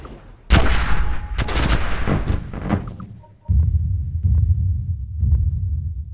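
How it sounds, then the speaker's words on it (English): Spaceships bombarding a planet in the strategy game Stardrive: heavy booming impacts in a rapid cluster, followed by a deep, low rumbling barrage with softer repeated thuds, loud and close, with no talk. "Just gonna bombard the living crap out of it"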